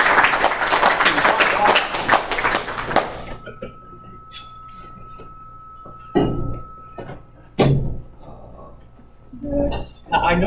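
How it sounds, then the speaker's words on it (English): A lightning-talk audience gives a brief burst of dense applause that stops abruptly after a few seconds, followed by quiet room noise with occasional thumps and clatter. "But round of applause for James."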